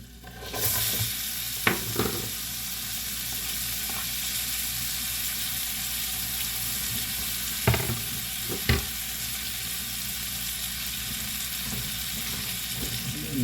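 Onions fry in a pan with an even close sizzle that starts abruptly and holds steady, punctuated by a few clattering knocks and scrapes of a utensil, with no speech.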